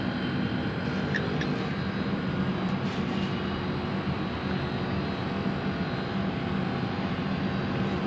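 An air conditioner outdoor unit's fan motor runs steadily, a continuous broadband whirring drone with a faint tonal hum, constant in level for several seconds with a few faint ticks near the start.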